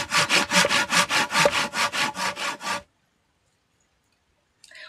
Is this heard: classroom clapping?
no